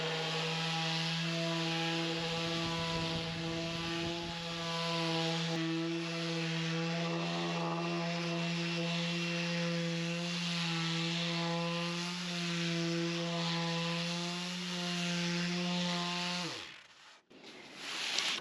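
A power sander with 40-grit paper grinds across wooden rafters, giving off a loud, steady motorized whine that holds constant for about sixteen seconds before spinning down and stopping.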